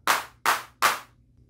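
Three synthetic clap hits from the percussive oscillator of a Teenage Engineering TX-6 field mixer, bright bursts of noise with short tails, evenly spaced and played alone.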